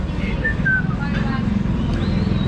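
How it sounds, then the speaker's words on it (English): Thin, sliding whistled calls of birds on overhead wires in Bangkok drift over a steady roar of outdoor traffic and wind, faint and intermittent. "It's actual real birds up in them wires."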